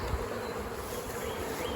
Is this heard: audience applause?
no